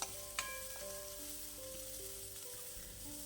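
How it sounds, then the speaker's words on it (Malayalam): Onion and green chili sautéing in a pan with curry leaves, a steady soft sizzle and frying hiss with a few stirring scrapes, close and alone. "ഇനി ഇളക്കി കൊടുക്കുക. സവാളയൊന്ന് ജസ്റ്റ് ഒന്ന് വാടി വരട്ടെ"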